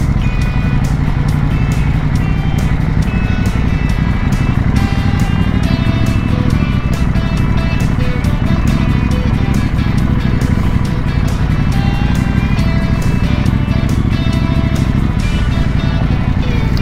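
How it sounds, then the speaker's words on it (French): A group of trail and adventure motorcycles rides off-road in a steady, loud drone of engines and rolling wheels that continues without a break. "petite vue sur le groupe de moto avec un couple qui est venu faire de l'off-road"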